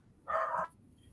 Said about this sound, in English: was muted myself to tell the dog to be quiet, and he actually listened for once